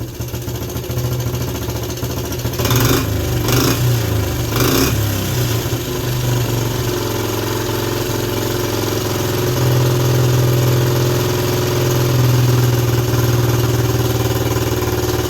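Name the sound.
Suzuki LT125 engine running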